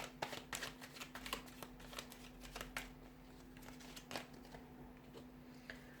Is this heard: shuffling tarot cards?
yes